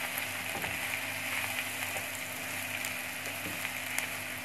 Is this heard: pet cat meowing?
no